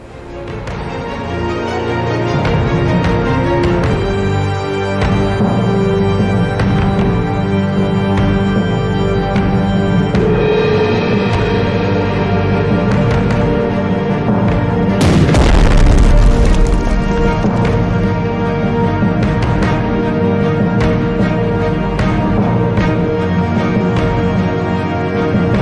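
Main gun fire and explosions in the strategy war game Strategic Mind, with repeated booming blasts over a steady bed of game music and one especially heavy explosion partway through.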